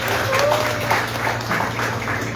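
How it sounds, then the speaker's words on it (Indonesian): Applause from an audience at an Indonesian television launch event, a steady wash of clapping over a low hum, with faint voices underneath. "Tepuk tangan lo buat kita semua."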